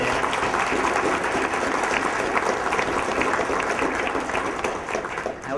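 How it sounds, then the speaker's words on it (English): A large crowd at an adult education graduation applauds steadily, a dense, continuous roar of clapping at full strength from start to finish. "give all of our graduates and award recipients a big round of applause"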